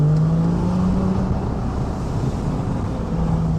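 A Porsche 911 991.1 Carrera with an Akrapovic titanium slip-on exhaust cruises along, a steady, loud, low engine drone heard from inside the car, with a slight dip in pitch partway through and no talking.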